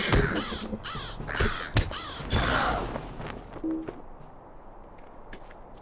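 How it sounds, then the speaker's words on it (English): Several harsh crow caws in Lord of the Rings Online, a quick rhythmic series, loud and close, with a thump in between, then fading into quieter ambience with faint shuffling. "It sounds like crows."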